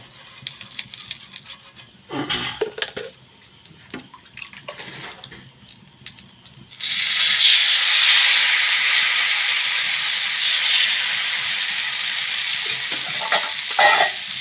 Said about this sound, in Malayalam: അപ്പോൾ ദോശ ചൂടാൻ പോവാണ്.